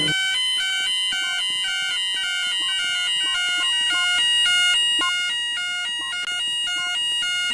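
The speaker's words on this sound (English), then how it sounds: "the fire alarm has been activated" A store fire alarm in a shopping centre sounds continuously, a loud repeating electronic tone pattern with steady rhythmic pulses filling the whole stretch, with no talking over it.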